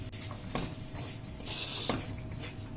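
Spiced brinjal mixture being lightly sautéed and stirred in a pan for brinjal rice, a steady soft sizzle with two sharp scraping strokes of the spoon against the pan.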